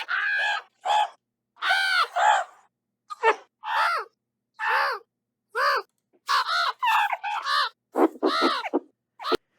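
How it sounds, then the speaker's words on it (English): Meerkat calls from a sound effects library: a series of harsh, raspy caws and squawks in short bursts separated by silences, loud and close, with no other sounds. "I found this meerkat sound library for like 10 bucks. I love how it sounds."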